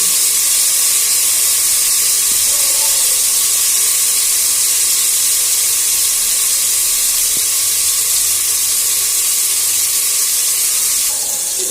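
Brinjal pieces sizzling in hot oil in a pan for a vangi bath, a steady close hiss and crackle that continues unbroken, with no talking.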